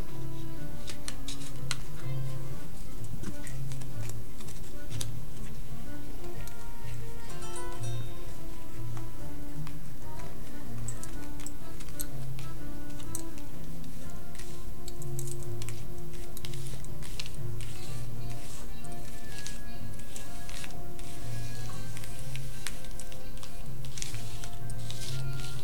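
Tarot cards being shuffled by hand, a long stretch of continuous soft riffling and flicking with a faint low hum underneath, no talking.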